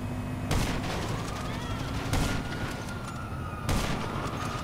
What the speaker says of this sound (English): I'm gonna pull out the sniper real quick and see.